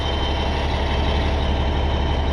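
Antique tractor engine idling, a steady, dense low-frequency rumble that stays loud and unchanging throughout, close by with no voices.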